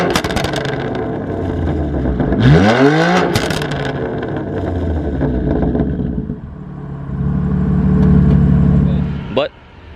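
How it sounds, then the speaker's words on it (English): A BMW M4 CS engine revs with a raspy exhaust note, a rising and falling roar that swells loudly midway, then settles into a deep steady drone before cutting off sharply, with someone talking over parts of it. "I know that the M4s are known for the raspiness and that the sound isn't most appealing"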